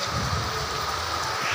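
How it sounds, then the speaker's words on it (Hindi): Heavy rain pours steadily in a dense, even hiss with no breaks, fairly loud and close, with no voices. "देख सकते हैं कितनी तेज बारिश आ रही है"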